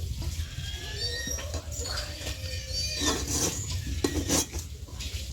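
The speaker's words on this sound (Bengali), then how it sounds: "দু 3 মিনিট খুব ভালো মতো মিশিয়ে নিয়েছি" Rice flour dough for pitha is stirred and mixed in a pot, giving soft scraping and clinking of a utensil against metal, with faint speech and quiet background noise.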